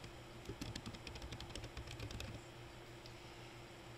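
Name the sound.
typing on a computer keyboard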